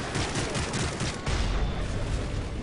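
Gunfire in the video game Call of Duty Modern Warfare 3 rattles in dense, rapid bursts, with a heavier barrage swelling halfway through, loud and continuous with no talking.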